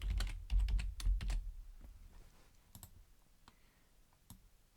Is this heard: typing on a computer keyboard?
yes